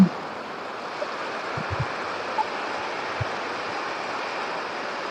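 Canal water flowing into the Sarvaraj Sagar dam near a village, a steady broad rushing wash with light wind, constant and fairly close, with a few soft knocks.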